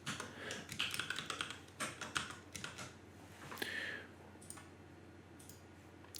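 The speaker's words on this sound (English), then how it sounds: "So right now I'm going to type in my special passphrase that I'm going to use for this wallet." Someone types a passphrase on a computer keyboard, a close, quiet stream of irregular key clicks in short bursts with brief pauses, thinning out toward the end.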